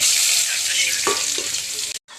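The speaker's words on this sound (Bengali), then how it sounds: "এখন সম্বার দিব। তেজপাতা, শুকনো লঙ্কা দিয়েছি, পাঁচফোড়ন" Hot oil crackles and sizzles steadily as bay leaf, dried chilli and panch phoron are tempered in a pan, loud and close, with a brief stir, then a sudden cut.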